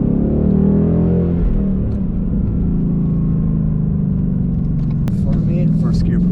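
A Ford Mustang GT's engine rumbles loudly from inside the car during a hard acceleration pull, a steady low roar holding throughout with a brief sharp click near the end.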